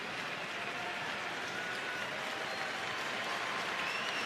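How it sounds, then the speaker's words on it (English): Baseball stadium crowd noise during a Pirates vs Cubs MLB regular season game, a broad steady roar with scattered claps and cheers, distant and continuous for the whole stretch. "Crowd beginning to make a little bit of noise as Kittredge tries to get the Cubs out of the jam"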